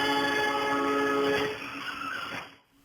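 A train blares its horn at a signalled level crossing in Londrina, a loud sustained chord that cuts off partway as the passing rumble continues and then fades.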